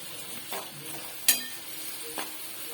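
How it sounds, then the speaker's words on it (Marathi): Onion, green chilli and curry leaves sautéed in a pan give a quiet sizzle punctuated by a few utensil scrapes and one sharp metallic clink. "आता बरोबर मिरची पण टाकायचे, कढीपत्ता टाकायचे आणि चांगला गरम होईपर्यंत परतायचं"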